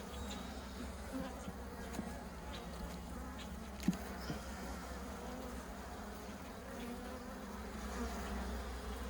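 A steady, dense buzzing of many bees around hive frames during a spring hive inspection fills the air, constant and close, with a few faint clicks and no voices.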